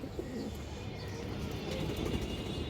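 Pigeons coo softly and repeatedly against a steady background hum, with a few faint chirps mixed in.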